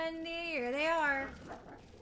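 A single wolf howl in the video game WolfQuest, a wavering tonal call that rises and dips, then fades into a softer tail.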